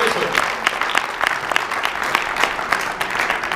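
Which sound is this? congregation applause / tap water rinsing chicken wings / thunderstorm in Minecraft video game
congregation applause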